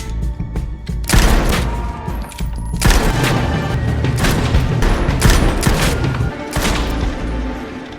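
Loud, close gunfire during shooting practice, rapid bursts of shots and booming reports running almost continuously with brief pauses.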